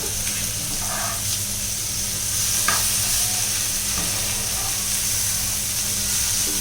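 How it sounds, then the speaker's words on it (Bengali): Prawns frying lightly in a pan for a short time while cooking prawn malai curry, giving a steady, close sizzle with a few soft stirring scrapes and no voices. "উল্টে নেব মাছটাকে, হালকা একটু ভেজে নেব"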